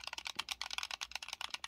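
Plastic trigger buttons on a cheap 4K Game Stick Lite game controller are clicked quickly and repeatedly, making light, close, rapid clicks with no voices.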